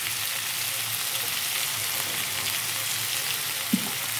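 Green chillies and spices sizzle steadily in a frying pan with a fairly loud, continuous hiss, and a single soft knock of the spoon comes near the end as the mixture is stirred.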